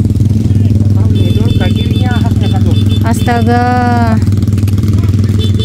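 A motorcycle engine runs steadily and loudly nearby on an ojek trip between Mamuju and Seko, its low drone continuing throughout while people talk over it and another engine or horn-like tone rises briefly.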